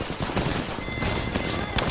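Rapid gunfire in the Apex Legends video game, a dense stream of sharp cracking shots with brief spikes, rattling continuously and loud at close range.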